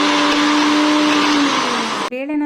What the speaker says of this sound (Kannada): ಬೇಳೆನ ಮಿಕ್ಸಿಗೆ ಹಾಕಿದ ಮೇಲೆ ಅದು ನುಣ್ಣಗೆ ರುಬ್ಬಿದ ನಂತರ